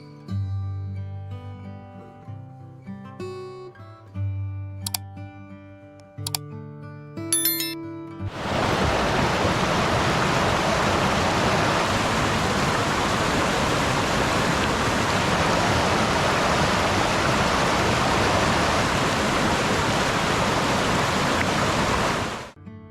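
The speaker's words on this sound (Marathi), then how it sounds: "दगडांमधून प्रवाहित होऊन येणारं पाणी" River water rushing over rocks, a dense, steady roar that fills the last two-thirds, preceded by a stretch of music.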